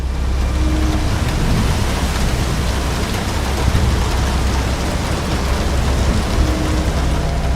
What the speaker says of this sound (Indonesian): Kondisi saat itu sedang hujan lebat, sehingga suasana di luar lumayan gelap.